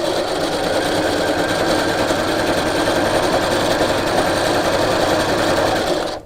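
A sewing machine stitches fabric with shirring elastic in a steady, continuous whirring run lasting several seconds at close range, then stops abruptly at the end, with no talking over it.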